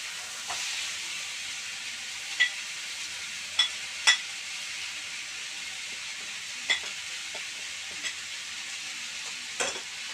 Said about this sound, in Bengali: মিশিয়ে এইভাবে নাড়াচাড়া একটু করে নিলাম।